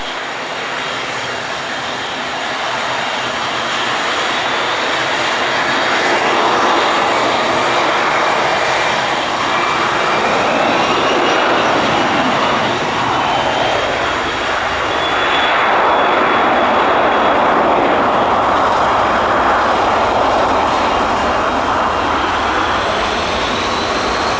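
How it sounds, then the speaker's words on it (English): Fixed-wing aircraft, general aviation or business jet, taking off from runway 26 left at Spirit of St. Louis Airport, a steady loud engine roar building and sustained throughout, close to the listener with no talk. "So 560 fly runway heading, runway 26 left, clear for takeoff."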